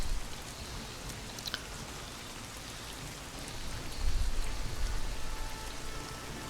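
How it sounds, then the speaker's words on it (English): Rain falls steadily in the strategy video game Strategic Mind: Spectre of Communism, a soft continuous hiss of drops with a faint low rumble swelling near the end, heard alone without talk. "Okay, so now it's raining."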